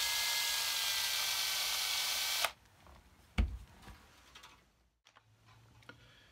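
A small drill fitted with a tuner bit whirs loudly for a couple of seconds turning a cigar box guitar's tuning pegs, then stops, followed by clicks, a thump and faint mechanical ticking.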